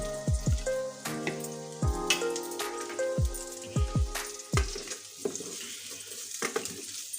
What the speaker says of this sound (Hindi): आलू को भी मैं मूली के साथ अच्छी तरह से फ्राई कर लेती हूँ।